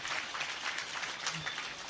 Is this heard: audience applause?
yes